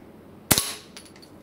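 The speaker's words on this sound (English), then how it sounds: "Is it able to stop a pellet from a pellet rifle?" A single sharp crack from a pellet rifle as the pellet strikes a domino set, one close, loud impact with a brief metallic ring, followed by a few faint knocks.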